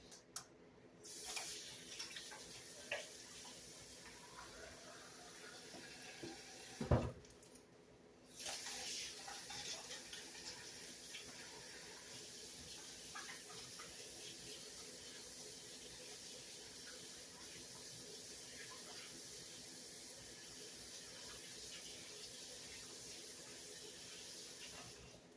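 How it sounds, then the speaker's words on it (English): Hands being washed under a running sink tap in a home kitchen, a steady broadband rush of water lasting most of the stretch, briefly interrupted near the start, with faint splashing and no talk. "So now I'm going to wash my hands."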